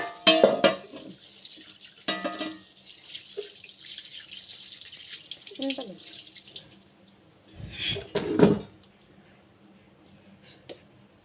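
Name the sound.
water running while washing a cast iron pan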